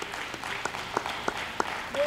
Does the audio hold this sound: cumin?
no